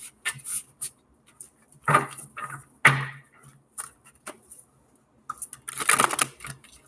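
A new, stiff deck of tarot cards is shuffled by hand close up, giving irregular bursts of papery flicking and snapping with short pauses and a longer riffle near the end.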